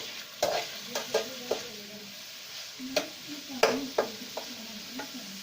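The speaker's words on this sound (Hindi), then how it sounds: "प्याज को अच्छे तरीके से भूनना है, इसको जितना हमें ब्राउन चाहिए उतना ब्राउन कर लेंगे" Onions frying in a pan until browned for a village-style Indian green bean curry, with a steady sizzle broken by several sharp scraping stirs of a spatula; no talking.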